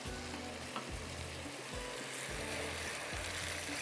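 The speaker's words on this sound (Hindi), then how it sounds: "थोड़ा सा इसको हमने इस तरह से भूनना है।" Ground tomatoes fry with ginger-garlic masala in a pan, a soft, steady sizzle with faint scraping stirs at a slow, regular pace, fairly quiet and without talk.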